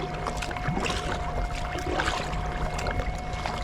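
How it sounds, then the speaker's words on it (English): An iSUP paddle board is paddled along a river, giving a steady wash of water sloshing and paddle strokes close by, with constant background water noise and a faint tonal hum throughout. "I'm paddling with the right paddle to turn it away from those trees"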